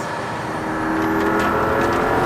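McLaren P1 hypercar in track mode, driven at speed on a race circuit, its engine note rising and building in loudness as it accelerates, with a high whine over the roar.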